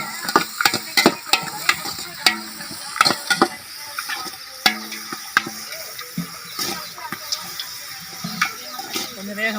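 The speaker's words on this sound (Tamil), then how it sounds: "அறநூறு கிராம் வெங்காயம், பட்டை, கிராம்பு, ஏலக்காய் எல்லாத்தையும் ஒன்றா போட்டு வதக்கணும்." Six hundred grams of onions fry together with cinnamon, cloves and cardamom for chicken biryani. A spoon clatters and scrapes against the pan in uneven bursts over a low sizzle, with faint background voices in places.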